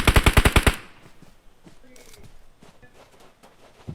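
A rapid burst of about eight loud gunshots in quick succession in the mobile game PUBG Mobile, then quieter clicks, shuffling and faint movement noises.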